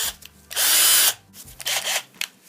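Power drill boring out factory-fitted shear bolts from a Yamaha FZS600 ignition barrel: one loud, steady whine lasting about half a second, then shorter, quieter bursts of drilling with brief pauses between, close up and with no talk.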